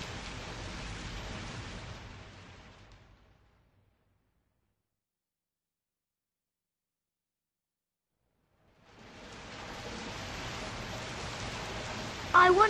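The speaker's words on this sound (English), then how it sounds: "Oh no, it's raining." Steady rain falls as a broad, even hiss that fades out, leaves a stretch of silence and then returns at full strength, with no speech.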